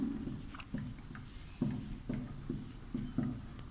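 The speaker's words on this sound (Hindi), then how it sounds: "तो इसमें हम लोग सबसे पहले लिखेंगे एतत् चित्रम" Chalk or a marker scratches across a classroom board in a Sanskrit lesson, a soft, close rhythm of short rubbing strokes and taps as words are written, with no speech.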